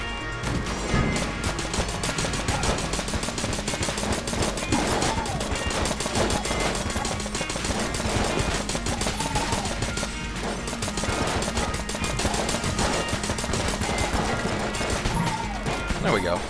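Rapid gunfire and a charged shot from the roguelike shooter Enter the Gungeon, a dense, continuous barrage of overlapping shots and impacts with game music running underneath the whole time.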